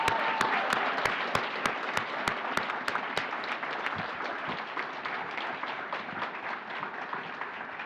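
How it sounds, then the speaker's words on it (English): Crowd applause fills a school board meeting room, dense clapping that holds steady and slowly thins out, with a few sharp louder claps up front. "A big round of applause."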